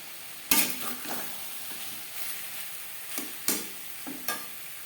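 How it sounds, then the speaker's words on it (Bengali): Potato and pointed gourd pieces with spices are stirred in a pan, a low sizzle under repeated sharp utensil scrapes and knocks against the metal, close and moderately loud. "চার পাঁচ মিনিট মশলার সাথে আলু পটল বেশ ভালো করে নাড়াচাড়া করে নেওয়ার পর দিয়ে দেব জল"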